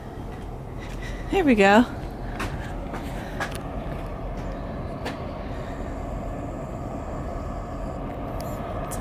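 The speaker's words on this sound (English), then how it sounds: "It's a CSX train, which is a freight train, right?" A slow-moving CSX freight train rolls past with a steady low rumble, fairly quiet and somewhat distant, while a person speaks briefly near the start.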